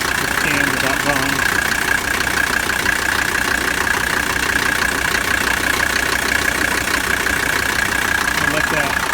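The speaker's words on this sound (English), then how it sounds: "Compressor's starting to get noisy." An AC compressor on a 1985 Mercedes 300D being recharged, starting to sound noisy, runs with a steady droning hum over the diesel engine's idle clatter, close and loud, while a voice talks.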